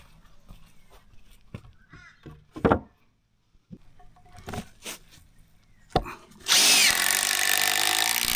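A power tool drives screws into hardwood timber while a garden bed is built outdoors, with short sharp knocks and handling clatter, then a loud, sustained whirring run near the end.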